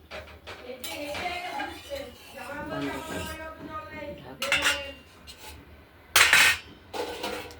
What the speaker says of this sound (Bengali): ঢাকা দিয়ে দিলাম, ফুটতে থাকুক